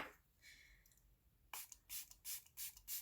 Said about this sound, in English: Just do one more finalized setting spray pat down